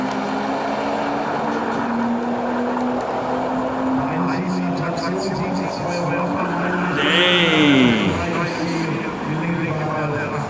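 A car accelerates hard off the line at a drag race, a rising engine roar from a distance that climbs in pitch and swells briefly, with spectators talking over it.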